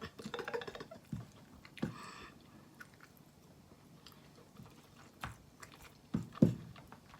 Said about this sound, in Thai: ขนาดกินพัดบวบใส่ไข่จืดๆ แล้วยังเอาน้ำพริกมาพี่น้อง